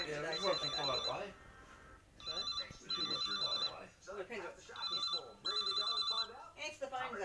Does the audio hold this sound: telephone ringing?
yes